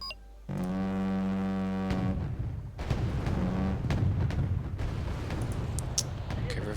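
Artillery booms repeatedly in the Wargame Red Dragon strategy game, heavy low blasts and rumbling impacts following a sustained tonal beep, loud and layered, with a voice talking over parts of it.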